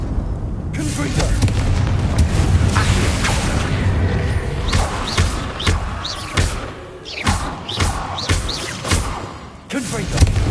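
Fiery spell blasts in the Hogwarts Legacy video game on PS5, a series of booming thuds and bursts over a dense, continuous game soundscape, with several sharp impacts in the second half.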